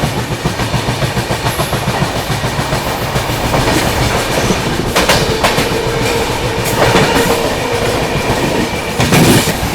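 Indian Railways 22221 CR Rajdhani Express running on the rails, a loud steady rumble with clickety-clack wheel beats and occasional sharp rail clanks, heard from on board throughout.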